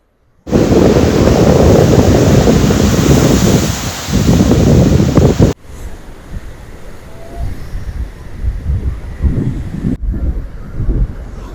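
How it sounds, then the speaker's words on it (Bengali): Strong ocean waves surge into a rocky crevice at Nusa Lembongan beach, first as a loud, continuous roar buffeted by wind, then, after an abrupt cut, as quieter, rolling surges that swell and fade. "এখানে ঢেউ কতটা শক্তিশালী সেটা দেখুন একবার এই গহ্বরে।"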